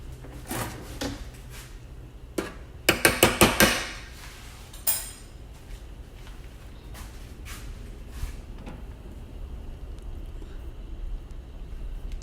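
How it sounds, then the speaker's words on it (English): A spoon stirs Southern grits in a pot, giving a quick run of knocking scrapes and taps against the pot, then scattered faint scrapes over a low steady kitchen hum. "You're going to continue to keep them stirred"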